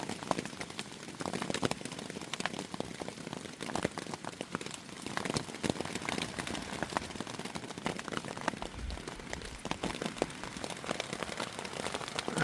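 Small hail, smaller than peas, falls during a storm on the Appalachian Trail in North Carolina. It makes a dense, even patter of faint ticks and taps that continues without pause.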